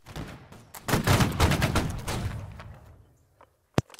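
Musket volley in the Holdfast: Nations at War game, a ragged burst of many overlapping gunshots crackling over about two seconds, fading, then one sharp late shot.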